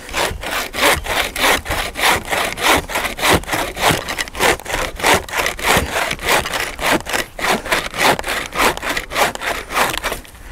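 A handmade bushcraft bucksaw cutting through wood in fast, steady back-and-forth strokes, each pass a loud rasping rip, close up and with no talking, about twenty strokes in a regular rhythm.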